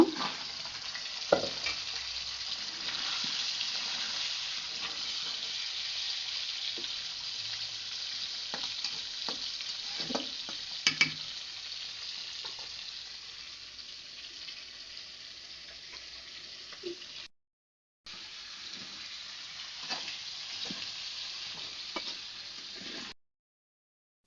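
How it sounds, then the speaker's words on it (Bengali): Chicken pieces frying in hot oil for a home-cooked meat curry, a steady broadband sizzle with occasional sharp pops and utensil clinks, loud and close, briefly dropping out near the end before resuming. "এভাবে বেজে আমি মুরগি রান্না করবো আজকে"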